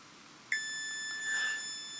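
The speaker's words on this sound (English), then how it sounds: "get the multimeter into continuity, which is the mode that beeps when we have a complete circuit" Multimeter in continuity mode beeping while probing solder points on a Bush BD-1709 radio circuit board, a single sustained high-pitched tone that starts abruptly and holds steadily, close and clear in a quiet room.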